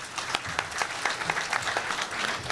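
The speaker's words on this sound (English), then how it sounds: "So give yourself a round of applause for being here." Applause from an early-morning crowd at a State of the City chamber event, with dense, steady clapping that stays fairly loud throughout.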